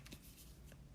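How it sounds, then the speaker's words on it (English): A deck of cards is shuffled aggressively, producing a brief, faint riffling flutter with a couple of soft snaps, close by and quiet. "I'm like shuffling this deck rather aggressively"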